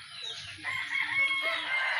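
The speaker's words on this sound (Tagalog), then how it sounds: "Chicken! Panabong" A fighting rooster, a gamecock kept at home, crows once in a long drawn-out call at moderate distance, with faint background sounds and no talk.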